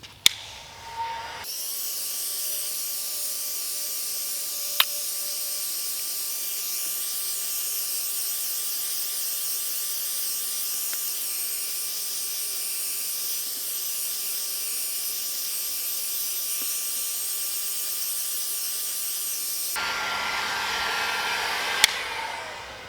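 Heat gun warming vinyl car wrap, a loud steady high-pitched electric whir with fan hiss that switches on with a click, runs unbroken for about eighteen seconds, then shuts off.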